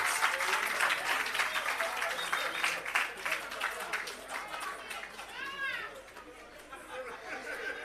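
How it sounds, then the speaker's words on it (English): Crowd applause at an outdoor commissioning ceremony for an irrigation system and agro park, steady clapping mixed with chatter and children's voices, fading slightly toward the end. "Please give Mr. Reid a round of applause."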